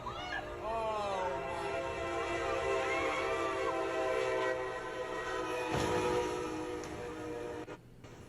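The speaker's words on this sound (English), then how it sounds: "A train is about to show up." A train rumbles in the distance with a drawn-out horn blast, while a voice talks over it and a cat meows briefly.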